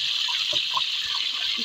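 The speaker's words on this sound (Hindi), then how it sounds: "इसमें थोड़ा पानी चला दिया" Water pours steadily into a kadhai pan on a home kitchen stove while pakoras are being prepared, giving a continuous hissing gush with a few faint knocks.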